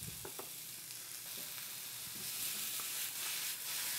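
Thin slices of mahi mahi frying with green onions in a pan, giving a steady close sizzle with a few soft stirring clicks and scrapes early on, no talking.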